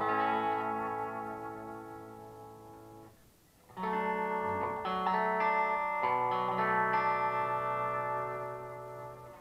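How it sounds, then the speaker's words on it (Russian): Electric guitar played through a Strymon Deco pedal with a singing, sustaining overdrive: a long held chord rings out, breaks off briefly, then new chords and sliding notes return loud and close, with no talking. "хороший, очень певучий овердрайв."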